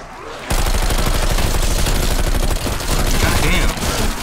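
Rapid, continuous automatic gunfire from a zombie-shooting video game, loud and close, with only brief gaps in the burst.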